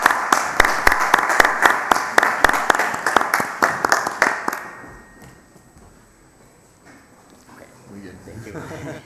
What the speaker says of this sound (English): A big applause for all our speakers.